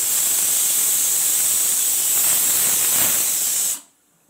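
Steam hisses loudly and steadily from a pressure cooker whistle while chickpea dal cooks for ghugni. The hiss cuts off abruptly near the end.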